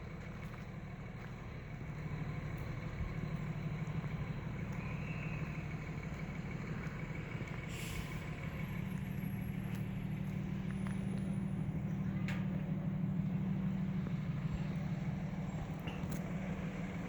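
Payson, Arizona fire department Engine 13 idling outdoors in a park beneath big pine trees, a steady low diesel rumble that swells after a couple of seconds and holds evenly with faint background sounds.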